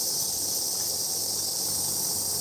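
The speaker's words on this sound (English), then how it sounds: "You can hear the cicadas, of course." Cicadas on Enoshima island in Japan drone in a steady, dense, high-pitched wash of buzzing that fills the whole stretch without pause, loud and continuous with no voices.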